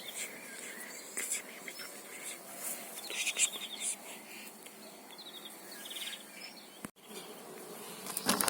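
Honey bees in an opened hive, being worked to make a split, keep up a dense, continuous buzzing, with individual bees whining close past at times and a brief bump partway through.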